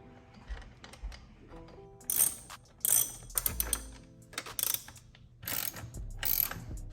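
A ratchet clicks in quick, close bursts while 5mm hex screws are tightened on a charge pipe at the throttle body of a BMW F34 340i GT with a B58 engine, over a quiet background hum and without speech.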